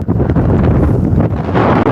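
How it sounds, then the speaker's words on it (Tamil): Strong wind buffets the microphone outdoors by a lake, a loud continuous rumbling roar with gusty fluctuations and no speech. "எனக்கு காற்று அதிக சத்தத்தில் கேட்கிறது"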